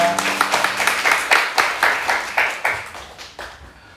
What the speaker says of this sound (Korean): 이렇게 박수 한번 드리겠습니다.